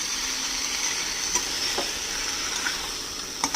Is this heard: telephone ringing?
no